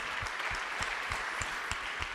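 An audience at a corporate awards night applauds with a steady wash of clapping, punctuated by a rhythmic thumping beat roughly every third of a second, likely music playing underneath.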